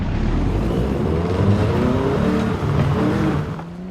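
Small Volkswagen Vocho engine in Forza Horizon 5, a steady loud drone with rising rev sweeps throughout, no voices, fading slightly at the end.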